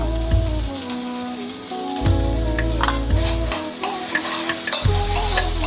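Cabbage and moong dal frying in a pan as grated coconut is stirred through, a steady sizzle broken by repeated scraping stirs and several heavy spoon strokes, close and fairly loud with no talking.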